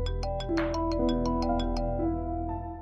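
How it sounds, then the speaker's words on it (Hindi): A phone ringtone plays in a home during a Pakistani drama scene, a melodic electronic tune with repeating chimed notes over a steady background, moderately loud with no talking. "किसका फोन है, उठाते क्यों नहीं हो?"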